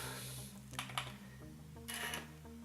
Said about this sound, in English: The mouse works. I click on things, stuff opens up.